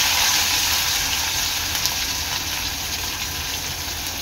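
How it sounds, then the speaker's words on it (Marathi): Curry leaves, finely chopped green chilli and onion hit hot oil in a kadai and send up a loud, continuous, close sizzle that hisses steadily without a break. "कढईमध्ये आपलं तेल चांगलं गरम झालेलं आहे। त्यामध्ये टाकते मी कढीपत्ता, बारीक चिरलेली मिरची,"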